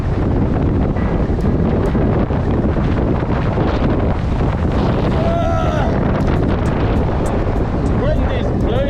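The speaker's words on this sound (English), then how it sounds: "Wind is blowing me right off the road." Strong gusting wind buffets the microphone while riding a mountain bike on a coastal road near Cape Town, a loud continuous roar and rumble dominating throughout, with a rider speaking through it.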